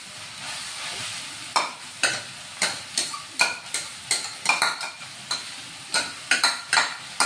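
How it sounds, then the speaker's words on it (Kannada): Fenugreek leaves stir-fried with onion in a pan for aloo methi paratha filling, a steady close sizzle broken by repeated sharp scraping strokes of a spatula at an uneven rhythm, with no talking. "ಈ ಮೆಂತ್ಯ ಸೊಪ್ಪನ್ನ ಸ್ವಲ್ಪ ಹುರಿಯೋದ್ರಿಂದ ಇದು ಕೂಡ ಮೆತ್ತಗಾಗುತ್ತೆ"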